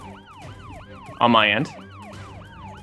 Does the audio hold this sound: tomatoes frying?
no